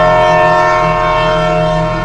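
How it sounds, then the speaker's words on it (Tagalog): A loud, sustained horn blares with a steady, harmonic tone over a low rumbling engine, holding without a break throughout. "At sa isang iglap, may malakas na busina."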